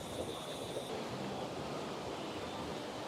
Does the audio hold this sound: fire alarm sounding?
no